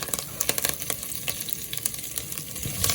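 Curry leaves, fennel and fenugreek seeds frying in hot sesame oil for a kingfish (vanjiram) curry, a busy close crackle of sputtering sizzles with sharp pops throughout, no voices.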